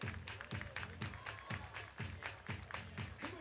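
Baseball crowd at a minor league game clapping in a steady rhythmic beat, about two claps per second, faint and distant with the crowd murmuring underneath.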